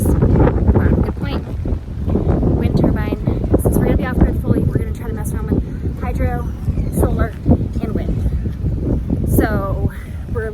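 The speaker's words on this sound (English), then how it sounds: "liking the fact that there's a lot of wind here" Strong wind buffeting the microphone on an open riverside property, a loud continuous rushing roar with people talking over it throughout.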